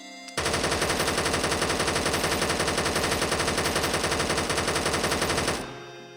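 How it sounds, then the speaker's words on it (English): An MK48 light machine gun fires in a Minecraft mod, one unbroken automatic burst of rapid, even shots lasting about five seconds, loud and close, then cut off abruptly. "The MK48, an LMG."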